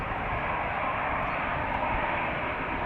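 An SAS airliner turns onto the runway at Amsterdam Schiphol, heard as a steady, broad jet engine roar held at a constant level, with no voices.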